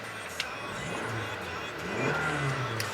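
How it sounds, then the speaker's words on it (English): A 2014 Toyota Camry SE with a VVT-i engine and 131,000 miles revs up from a steady idle, the engine note rising in pitch then easing back down, close and clear with no talking. "Revs up nicely, idles smoothly,"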